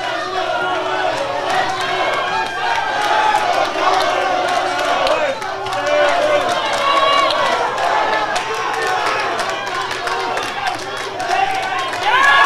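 Crowd noise at a Scottish super-bantamweight championship boxing bout swells and roars steadily throughout, with a commentator talking over it.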